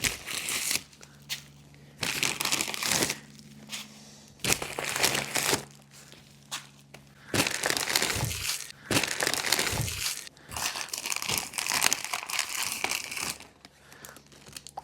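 Plastic wrapping crinkles and tears off individually wrapped fuel injectors in irregular bursts of crackling rustle, close by, with pauses between handfuls.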